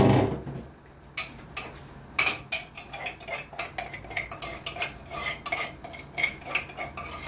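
Garlic cooks in a pan with scattered metallic clinks and scraping as a utensil stirs against the pan, making a steady irregular clatter close by.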